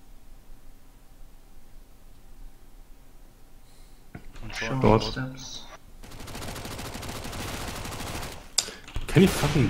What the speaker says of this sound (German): Oh, der Schuss war aber nice.